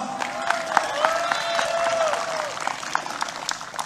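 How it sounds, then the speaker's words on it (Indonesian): An audience at an Indonesian official event applauds Megawati Soekarnoputri, with sustained, dense clapping from a large crowd, some sharper individual claps, and faint voices mixed in. "Kita berikan aplaus."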